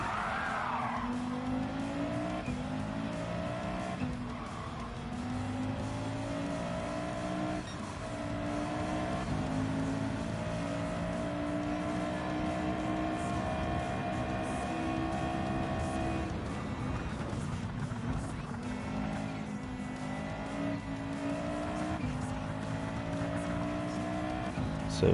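A very fast race car in Gran Turismo 7 with a steady, loud, high-revving engine drone and shifting pitch, joined by tire squeal and the sound of other cars being passed.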